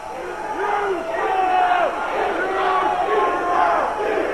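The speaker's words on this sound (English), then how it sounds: "Crowd voicing their opinion of this situation." A wrestling arena crowd at an NWA TNA hardcore match roars and chants loudly, rising and falling in repeated waves of shouting voices that fill the whole stretch.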